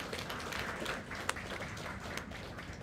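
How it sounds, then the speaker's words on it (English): Audience applause at a national HR conference, a steady wash of clapping at moderate-to-faint level with one sharper clap standing out, continuing through the whole stretch without voices. "So please bring applause for Mr. Vallabhbhai Savani."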